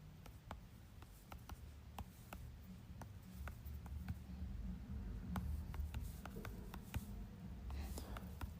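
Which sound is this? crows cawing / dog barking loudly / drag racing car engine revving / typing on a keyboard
typing on a keyboard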